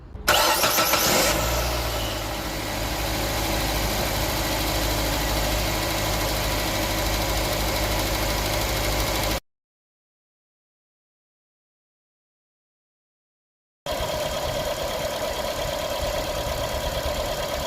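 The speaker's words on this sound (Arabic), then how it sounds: "نبتدي بقى دلوقتي ندور العربيه مع اللزوجه ال10 40 ونشوف شده الصوت هتبقى قد ايه" A car engine running 10W-40 oil cranks and catches, then settles into a steady, close idle; the rumble cuts out briefly before resuming at the same even hum.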